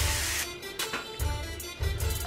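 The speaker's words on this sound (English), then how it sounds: "Spray the pan." Cooking spray hisses onto a frying pan in a few short bursts, close up, with a low rumble underneath.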